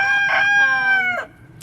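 A rooster crows near a chicken coop beside lavender Orpingtons, loud and close, one drawn-out cock-a-doodle-doo with a cluck at the end.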